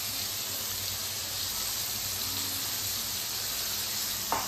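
Potatoes frying in oil with salt and turmeric, a steady moderate sizzle with light bubbling, continuous and alone, ending in a small knock.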